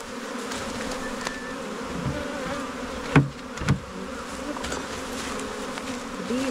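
Agitated honey bees buzz continuously and close during a honey harvest, a dense droning hum with a couple of sharp knocks partway through, and no talking.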